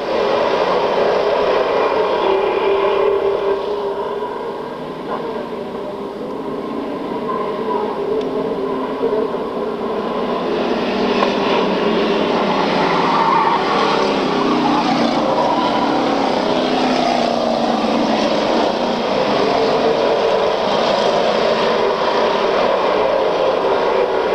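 A pack of stock cars roars away at the start of a 1995 race, a dense, loud, sustained engine drone that swells and holds steady, heard from trackside.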